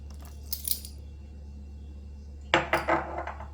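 Jamaican black rum fruit cake batter is mixed by hand, with a few clinking knocks of a utensil against a bowl in two short bursts separated by a quiet pause, close and fairly faint.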